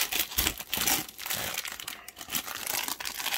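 Plastic packaging from a Japanese lucky-bag box crinkling and rustling as scissors cut it open, a dense, continuous close-up crackle with no talking.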